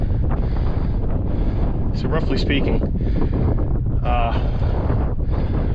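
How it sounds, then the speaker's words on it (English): Strong wind buffets the microphone in a constant low roar atop a mountain fire tower, with someone speaking briefly in between gusts. "Wind gusts aren't too bad so far"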